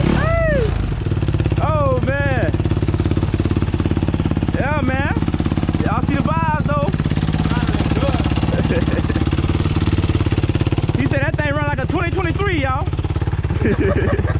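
A 2008 Suzuki RM-Z450 motorcycle engine runs steadily throughout, a close continuous drone with a second small bike idling nearby, while voices talk over it in short bursts.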